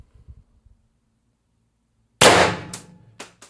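Pistelle X-68 HPA airsoft pistol with a refitted .686 barrel and Reaper suppressor at 1100 psi fires one sharp, loud suppressed shot after near silence, followed by a brief decay and a couple of faint clicks.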